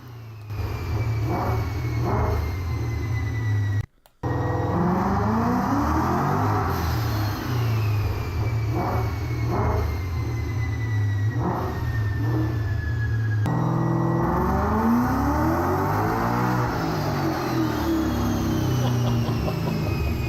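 A tuned car's engine roars continuously on a dynamometer during a max power run, loud and sustained with rising and falling revs, repeated pulls and a brief cut near the start.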